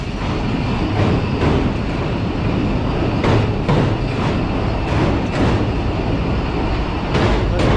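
A Green Line Express train rolls slowly at restricted speed across the Malir river bridge in Sindh, a loud continuous rumble close by with periodic clanks and clacks of the wheels over the rails.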